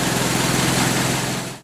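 A Ford Model T engine idles with a steady, loud rumbling chug close by after a cold start, then cuts off at the end.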